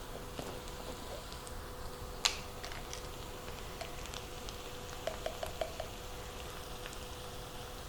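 Ground beef with minced garlic frying in a pan, a steady low sizzle with a few faint clicks and pops, heard alone without talk.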